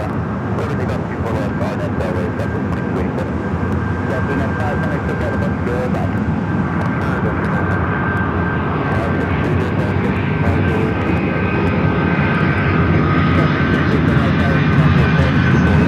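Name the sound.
United Boeing 757 jet landing at LAX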